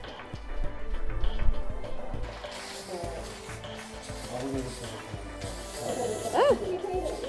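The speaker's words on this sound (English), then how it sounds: "The reality of using spray paint" Spray paint cans hiss in steady bursts as street art is painted, with continuous airy spraying at close range and a busy background of people and activity.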